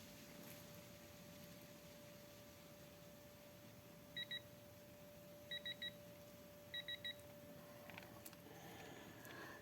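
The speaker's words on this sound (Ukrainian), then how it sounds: "І почне пищати, бо щоб не заглядати там" A digital torque wrench used while changing glow plugs on a Passat B8 gives three short, faint high-pitched beep pairs at steady intervals over a quiet background hum, with no talking.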